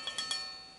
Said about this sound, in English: And that noise you're hearing is this metal plate here.